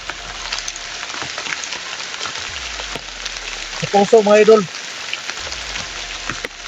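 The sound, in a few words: heavy rain falling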